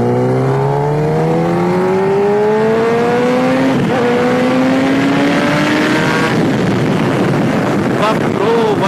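A Kawasaki ZX-10R motorcycle engine revs up hard while accelerating, pitch climbing through several gears, loud and close, with heavy wind noise on the microphone throughout.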